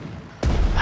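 A sudden heavy gunshot boom from a WWII Pacific strategy video game cuts in after a quiet moment, a loud close blast that rumbles on with low-end weight.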